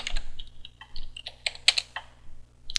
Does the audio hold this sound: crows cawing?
no